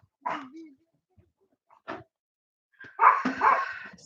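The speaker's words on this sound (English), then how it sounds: "dogs are barking." Dogs bark indoors at home in a few short, separate outbursts, fairly close, with gaps of silence between them and a voice nearby.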